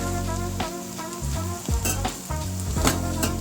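Red and yellow peppers are tossed into a hot pan for a raccoon goulash and sizzle loudly and continuously, with stirring scrapes and clanks breaking through the frying hiss.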